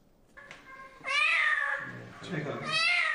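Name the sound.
kitten meowing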